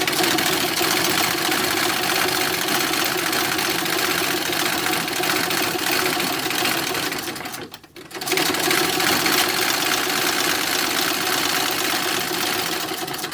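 A sewing machine quilts diagonal lines across a 1910s-style toddler hat brim, running with a loud, steady close-up whir that stops briefly partway through before starting again and continuing evenly.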